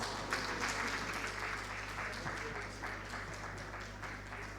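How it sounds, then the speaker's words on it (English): An audience at a migrant dialogue opening ceremony applauds a law professor, a dense, even roar of clapping over a low hum, sustained throughout with a faint voice or two underneath. "Ladan with a round of applause."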